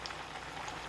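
Sabudana vadas frying in hot oil over a medium flame, giving a steady crackling hiss with scattered small pops throughout the moment.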